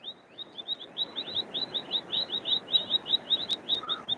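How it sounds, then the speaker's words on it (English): Small birds chirp beside a trout stream in a quick, regular series of bright, high tweets over a soft background wash of flowing water. "there's those beautiful birds I was telling you guys about"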